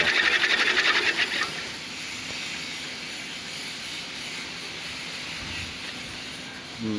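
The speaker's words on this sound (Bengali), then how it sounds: "আমরা এখানে আস্তে আস্তে কিছু কলা গাছের পাতা এনে এখানে কাটিং করছি" A four-blade chaff cutter machine chops banana leaves, giving a steady, loud mechanical whir and hiss with a fast rattling clatter in the first second, and no voices.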